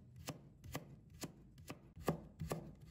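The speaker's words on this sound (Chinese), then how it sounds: "再把它切成丝。" A knife on a cutting board slicing carrot into thin shreds, sharp regular chops about every half second, close and clear with no voices.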